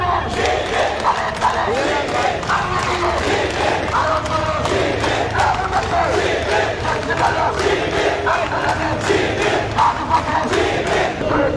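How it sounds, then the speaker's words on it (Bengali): A large crowd chants rhythmically at an Islami Chhatra Shibir protest march in Dhaka, with massed voices shouting in steady repeated bursts throughout, loud and close. "বাংলাদেশ ইসলামী ছাত্র শিবির ঢাকা মহানগর পশ্চিমের আয়োজনে বিশাল একটি বিক্ষোভ মিছিল তারা বের করেছে"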